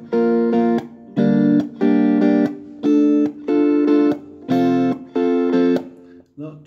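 Guitar strumming the rhythm of a song at full speed: loud strummed chord bursts in a steady, bouncy pattern, separated by short gaps and muted percussive taps, close and without talk.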